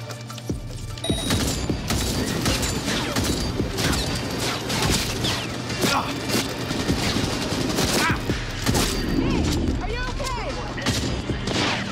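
Sustained gunfire rattles through a Cyberpunk 2077 firefight, dense rapid bursts and sharp shots mixed with mechanical clatter and crashes, with voices heard intermittently under the loud shooting.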